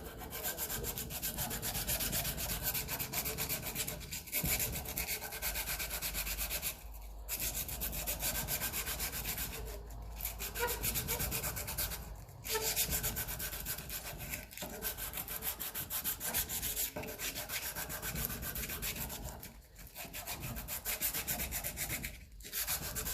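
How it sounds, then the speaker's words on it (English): Sandpaper wrapped by hand rubs back and forth over a part on a 1954 Ferguson TEF 20 diesel tractor, a steady rasping scrub with brief pauses between strokes, close and alone. "Where's my bit of sandpaper gone? Wrap it around. Just try and polish that up."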